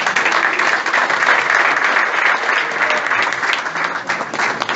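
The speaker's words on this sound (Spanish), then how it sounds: "Un aplauso para ella." A large group applauds loudly and continuously, a dense, even patter of many hands clapping together.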